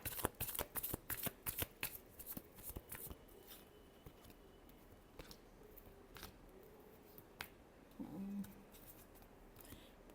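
Tarot cards are shuffled in a rapid run of crisp riffling flicks, close and fairly quiet, then a few slower slaps and soft rustles as the deck settles.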